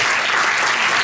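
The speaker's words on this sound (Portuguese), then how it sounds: "Um aplauso para a Andreia." Audience applause at a children's rights convention anniversary arts event, a dense, steady wash of many hands clapping at once, loud and continuous for a brief moment.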